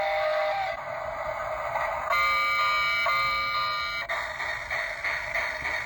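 Electric toy train set giving its warning tone on start-up: a steady, loud electronic buzzer-like alarm tone that shifts pitch a few times and plays alone, with no talking.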